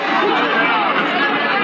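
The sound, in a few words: crowd of protesters in street, St. John's, Antigua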